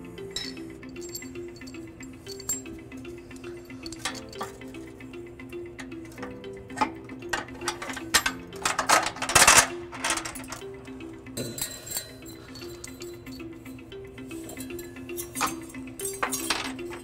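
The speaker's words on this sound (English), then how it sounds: "Then we're gonna push our bolt in, followed by the block, and then we're gonna pull it right back down." A bolt and block are fed into a 2022 Mazda CX-9 frame during a trailer hitch installation, giving scattered close metallic clinks and rattles over a quiet background.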